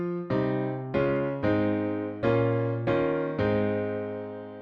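Piano plays a song's chord progression at full tempo, six sustained chords struck in a syncopated rhythm with quick anticipations, close and clear with no voices.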